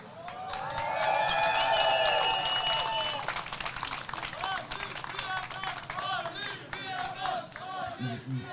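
A live-show crowd at a basketball fan event in Kaunas roars and cheers loudly, with scattered clapping and shouts rising at once and then settling into sustained, busy noise. Voices mix throughout the din.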